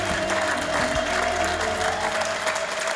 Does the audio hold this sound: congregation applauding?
yes